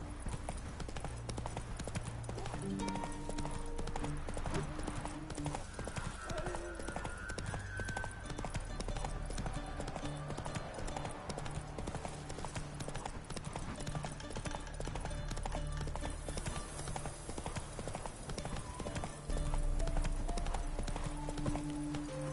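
Roach the horse galloping in The Witcher 3: a steady, rapid clip-clop of hooves runs continuously under ambient game sound and a faint voice, with no pause in the rhythm.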